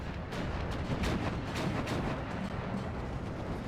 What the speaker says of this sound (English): I think this is a slower barrage off-map.